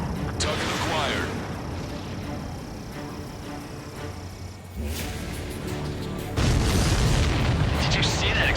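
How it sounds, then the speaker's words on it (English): An enemy supply ship explodes in the combat flight game Ace Combat 7, a loud booming blast that cuts through the jet engine roar and radio voices, followed by a second heavier rumbling burst. "Did you see that explosion?"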